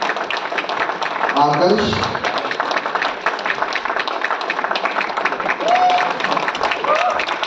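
Audience applause at a theatre performance's credits, steady clapping running beneath a voice reading names over a speaker.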